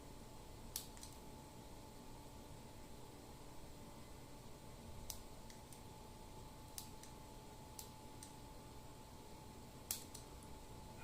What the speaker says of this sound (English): it's harder than hell to cut your fingernails with scissors